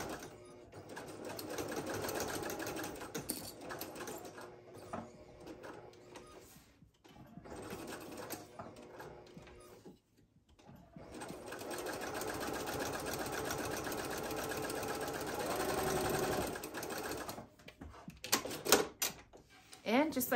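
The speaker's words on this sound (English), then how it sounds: "we're just gonna top stitch along the open edge first again" A sewing machine top stitching along the open edge of a tote bag handle, running in long steady bursts with brief pauses between, close by, while someone talks intermittently over it.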